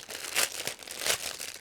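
A plastic bag holding a 1/24 scale BMW 320i BTCC 1996 model car body crinkles close up as it is opened, two louder crackling bursts standing out within brief rustling.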